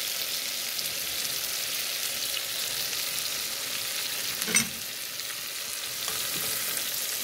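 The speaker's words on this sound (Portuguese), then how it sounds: "Tá quase fritando, tá quase no jeito." Continuous crackling sizzle of shrimp frying in hot oil, close and steady, with a single brief clink partway through.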